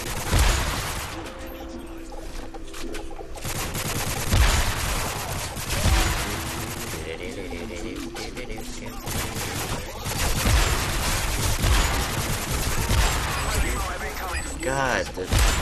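Gunfire in the Modern Warfare video game, a dense, chaotic mix of shots, booms and explosions across a long stretch, loud and close, with a voice talking over parts of it.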